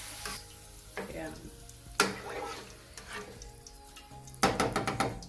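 Chips frying in a pan on a stovetop, a steady sizzle with sharp scraping stirs and clatter coming in bursts, close and fairly loud, with no talking.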